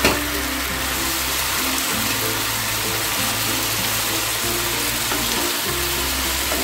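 Paneer cubes sizzling in sauce in a hot pan, a dense continuous hiss with occasional scraping stirs, close and steady throughout.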